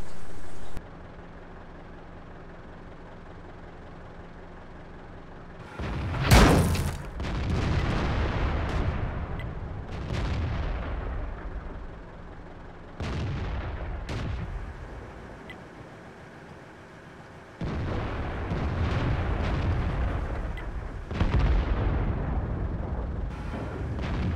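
Tank cannon shots boom out in World of Tanks on the Prokhorovka map. Several loud, sharp blasts come at irregular intervals, one especially strong, over a steady rumble of engines and battle ambience.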